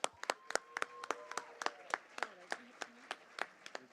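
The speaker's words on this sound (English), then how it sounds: "Everybody can give them a round of applause, please" Scattered, sparse hand claps from a small audience at a Black History Month event after a dance performance, individual sharp claps in an uneven rhythm, faint, with a voice speaking underneath.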